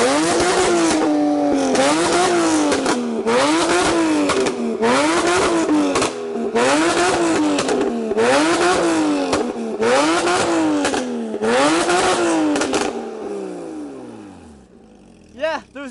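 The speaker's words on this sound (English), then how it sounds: "we figured it'd be rude not to get it started up" A widebody Rocket Bunny Porsche Cayman engine is started and revved repeatedly, loud rising and falling roars in a regular rhythm close by, fading near the end with a brief sharp burst.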